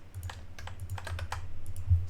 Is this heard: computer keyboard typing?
yes